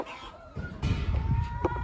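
Chickens and Indian roosters cluck in a farmyard, a dense chorus of overlapping low clucks and calls that grows louder after the first half second, with a faint background tone throughout.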